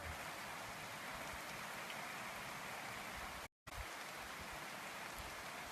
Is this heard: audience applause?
no